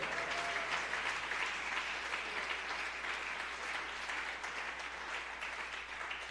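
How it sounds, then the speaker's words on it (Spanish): A church congregation claps together in sustained, dense applause that holds steady throughout, somewhat distant and reverberant. "Denle un aplauso al Señor hoy."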